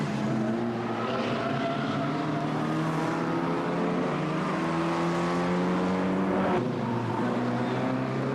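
Race cars from a 1998 MGCC BCV8 championship roar past on a circuit, a loud sustained engine howl with shifting pitch and an abrupt drop as one car goes by.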